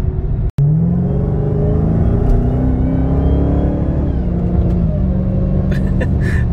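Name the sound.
car engine at half throttle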